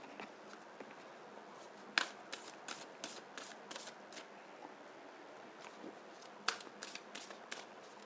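Tarot cards shuffled by hand, giving repeated crisp riffling bursts and flicks in two main runs with small pauses between, close and fairly quiet.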